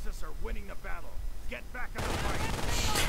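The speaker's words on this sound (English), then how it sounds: "MG42, they're suppressing these rounds very instantly as they're trying to move in there." MG42 machine gun fire in a WWII strategy video game: a dense burst of rapid gunfire bursting in loudly after someone commentator speaks, filling the latter part.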